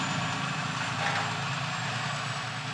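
A tow truck hauls away a crashed car, giving a steady low engine rumble and broad road noise with a faint high whine, continuous and moderately loud, with no voices.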